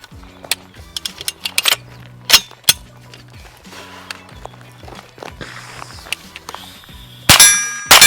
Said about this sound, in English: we'll go ahead and shoot this guy a couple more times with my so 80s double mag coupler I got here